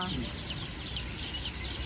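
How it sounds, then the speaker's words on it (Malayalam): Several chickens cluck and squawk nearby in quick, overlapping calls over a constant background hiss. "നാടൻ കോഴി അല്ലേ?"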